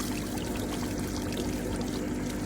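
Water pours steadily out of a pipe while a swimming pool is drained for winterizing, a constant, close rushing stream with no breaks.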